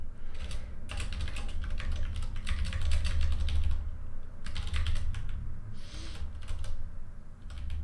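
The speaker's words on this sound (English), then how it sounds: "Bear with me for a second while I type out some code." Rapid, steady clatter of computer keyboard keys as code is typed, coming in bursts with brief pauses between them, close and fairly loud against a low background hum, with no one speaking.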